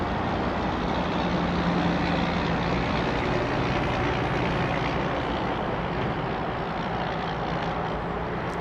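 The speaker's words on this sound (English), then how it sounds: "It's an Airbus A319." An American Airlines Airbus A319 roars steadily at DFW Airport, heard from a high vantage as a broad, constant jet rumble that stays even and fairly loud throughout, with no talking.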